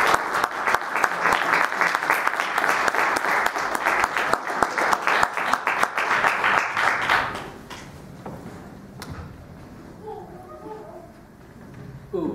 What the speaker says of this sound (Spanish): para los cuales pido un fuerte aplauso.